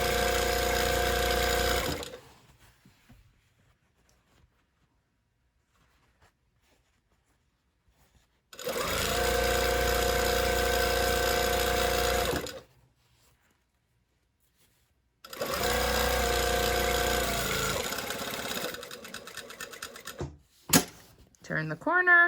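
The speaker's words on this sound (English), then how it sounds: "Now we're going to sew all the way down on this one." A sewing machine stitches a garment seam with a five-eighths inch allowance, running in three steady whirring bursts of a few seconds each, separated by quiet pauses, with brief handling noises near the end.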